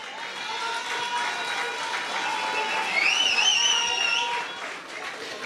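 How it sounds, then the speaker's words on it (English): A convention crowd at a political party gathering breaks into sustained clapping and cheering, a dense steady wash of applause with a few whistles rising over it midway. "Lindsay, stand and take a clap, man."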